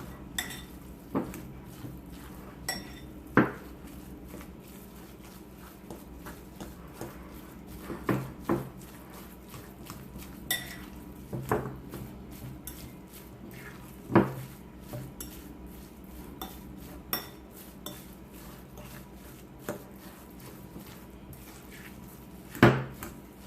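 A spoon stirs goat milk farmer's cheese mixed with chopped green onion in a bowl, giving soft scraping and frequent light clinks against the dish in an irregular rhythm, close and fairly quiet, with no talking.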